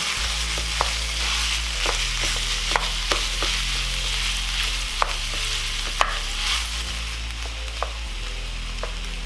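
Ground beef sizzles steadily in a pan for sloppy joes, with repeated sharp scrapes and taps as a utensil breaks up the meat, all close and fairly loud and with no talking.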